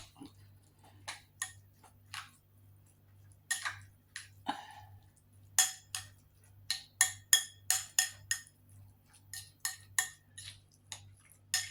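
Utensils clink and scrape in a bowl while a simple curry salad is mixed, with irregular bursts of sharp taps and clatters, some quick and clustered, close by over a quiet background hum.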